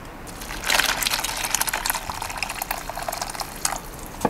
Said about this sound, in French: On va verser l'eau chaude.